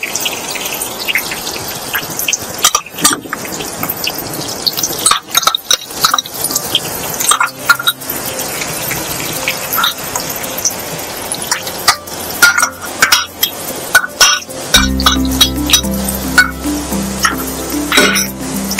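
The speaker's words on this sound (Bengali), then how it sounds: "আবারও সব উপকরণগুলো আমি ভালো করে ভেজে দিই" Chopped onion, half a capsicum and garlic frying in a pan, with a crackling, rain-like sizzle broken by repeated clinks and scrapes of a spoon. Background music comes in toward the end.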